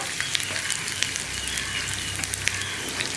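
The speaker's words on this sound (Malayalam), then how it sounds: "ഉള്ളി ചേർത്തിട്ട് ഉള്ളി ഒന്ന് ബ്രൗൺ ഷെയ്ഡായി വരുന്നത് വരെ നന്നായിട്ട് ഇളക്കി കൊടുക്കുക" Onions frying in a pan for a bitter gourd milk curry while being stirred, a dense, loud, continuous sizzle with faint stirring clicks, close and without speech.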